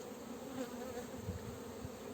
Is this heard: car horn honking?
no